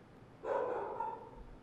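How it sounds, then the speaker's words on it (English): A single distant dog bark or yelp rings out briefly from somewhere outside, fairly faint over low background noise, with no talking. "Gotta wait for the dogs to start barking."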